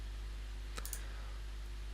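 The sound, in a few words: mouse clicking on a computer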